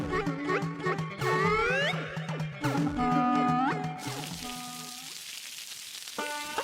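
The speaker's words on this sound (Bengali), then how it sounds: "এই যা, আবার তো বৃষ্টি শুরু হয়ে গেল" In an animated Bengali story, rain starts to fall. A soft, even hiss of rain sets in midway and continues after bright tonal music and cartoon effects fade.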